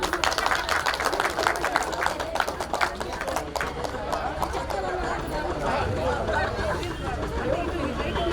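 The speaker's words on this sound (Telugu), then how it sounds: "క్లాప్స్ కొట్టాలి నాకు కూడా" An audience at a school reunion get-together claps in a dense, continuous burst, with chatter and crowd babble running underneath and the clapping thinning slightly toward the end.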